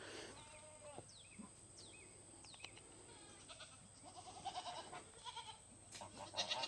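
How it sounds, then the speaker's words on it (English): Goat on a farm bleating several times in drawn-out, wavering calls at moderate distance, with faint birdsong and outdoor background noise. "Come on, goat, move!"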